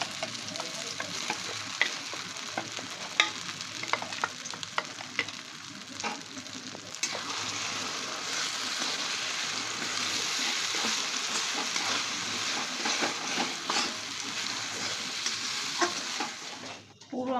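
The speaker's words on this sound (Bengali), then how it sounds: "পেস্টটা দিয়ে দিলাম। এটা আমি একটু হালকা ভেজে নেব।" Green pea paste for kochuri filling frying lightly in oil in a kadai, a dense continuous sizzle close up with occasional stirring scrapes and no voices.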